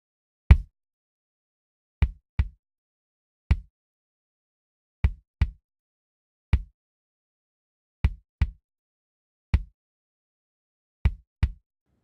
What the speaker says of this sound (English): So we'll start with the kick again.